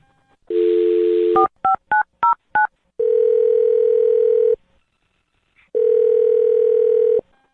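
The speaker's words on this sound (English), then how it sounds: "I'm going to dial her phone number right now" A telephone number is dialed: a burst of tone, then a quick series of separate keypad beeps, followed by two long ringback tones separated by a silent pause, clear and close.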